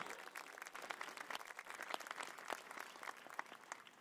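A crowd at a pool unveiling for the Olympic swim trials applauds the pool construction workers, a dense, steady, faint patter of many hands clapping at once.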